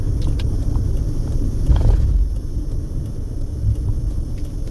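Low rumbling traffic on a street lined with car dealerships in East Las Vegas near Sahara Avenue, with a steady engine drone and a louder vehicle passing close midway.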